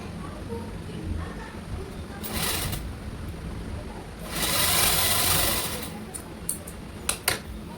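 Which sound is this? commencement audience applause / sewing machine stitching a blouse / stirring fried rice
sewing machine stitching a blouse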